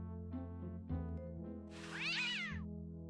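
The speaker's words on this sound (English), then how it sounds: "What a pretty pussycat. Pet the cat." A cat meows when petted in the video game Day of the Tentacle Remastered. One clear, drawn-out meow rises and falls over steady background music, with no talking.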